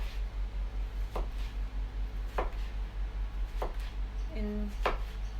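A knife slicing a large mushroom into thin slices on a cutting board, four or five distinct crisp cuts spaced about a second apart, close up, with quiet background hum.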